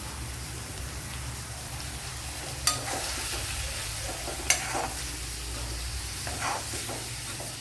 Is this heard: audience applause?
no